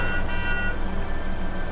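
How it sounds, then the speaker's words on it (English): In Fortnite, a car horn blares continuously over the game's background noise, loud and steady throughout the short moment. "Oh, stop honking."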